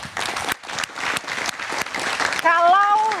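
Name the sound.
audience applause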